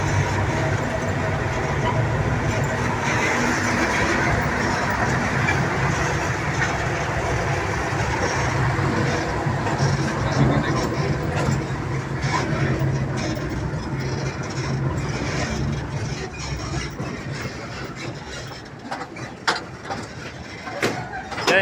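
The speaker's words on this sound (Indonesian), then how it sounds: "ini dia rangkaian lori berisi gula yang dihela oleh lokomotif nomor 8 ini." Locomotive number 8 hauling a line of rail wagons loaded with sugar past a sugar warehouse, a steady mechanical rumble and rattle of the cars with a voice talking over it.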